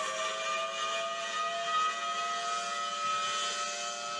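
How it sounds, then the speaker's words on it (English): A steady, wavering tsunami warning siren with a rotating horn wails on and on, its tone swelling and fading slightly as the horn turns. "That siren with the yellow horn and it spins around."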